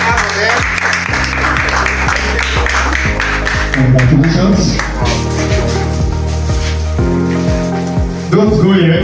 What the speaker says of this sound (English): Clap for them.